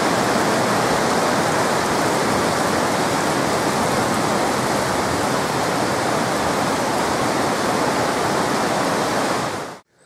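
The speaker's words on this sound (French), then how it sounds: "lui aussi sous la pluie comme nous, car ça tombe dru comme vous le voyez" Heavy rain pours down steadily near a Buddhist stupa in Thailand's Isan region, a dense, loud, unbroken hiss that holds constant before cutting off abruptly at the end.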